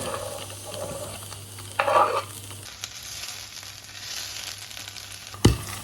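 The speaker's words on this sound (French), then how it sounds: "on coupe l'échalote et l'ail en petits morceaux et on les ajoute dans une poêle avec de l'huile d'olive" Finely chopped shallot and garlic sizzle steadily in olive oil in a frying pan, with a burst of spoon stirring partway through and a sharp clink near the end; no voices.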